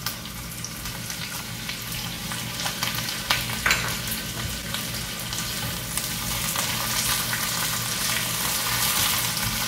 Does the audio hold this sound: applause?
no